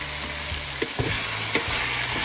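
Green cabbage sautéing with chopped garlic in a pan gives a loud, continuous sizzle and frying hiss, broken by a few scraping stirs of a utensil, close up with no talking.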